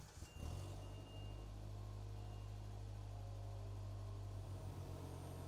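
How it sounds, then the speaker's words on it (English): A Polaris Slingshot's ProStar 2.0-liter engine idles steadily at a warm-up, a constant low rumble after a brief start, heard up close with no talking. "Start the engine and allow it to warm up at idle for 2 to 3 minutes."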